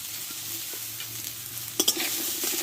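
Pumpkin sautéed with salt, turmeric, cumin and chili powder in a pan, a steady close sizzle with a few sharp scraping stirs toward the end.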